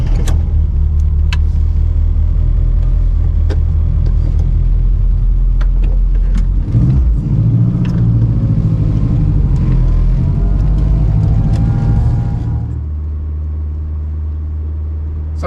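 A classic Mini's engine held at full throttle gives a loud, steady droning rumble with a strong low hum, briefly surging midway before easing off and dropping quieter near the end.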